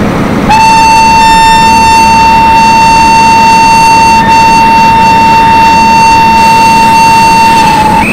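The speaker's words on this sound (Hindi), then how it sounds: "जल्दी से हॉर्न बजा देते हैं।" Train horn from the MSTS train simulator, sounded on the Sewagram Express with ICF coaches in the Kasara ghats: one long, loud, steady blast held for several seconds over a constant low engine rumble.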